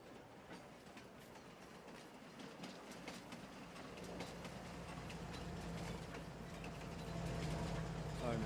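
A freight train in the Farming Simulator 22 video game rolls along with steady clickety-clack and a rising rumbling drone that grows louder toward the end, faint voice underneath.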